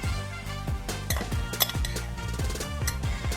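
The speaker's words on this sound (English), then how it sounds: "So I'm just kind of mixing it up a little bit." Crawfish tails being tossed with seasoning in a bowl, with a quick run of clinking and scraping from a utensil against the bowl and no talk.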